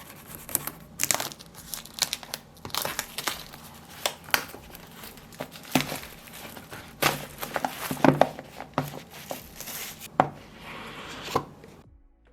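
Packaging for a set of budget Tensky FlyPods wireless earbuds being unboxed, with close, irregular crinkling, tearing and tapping of cardboard and plastic in bursts, with no talking.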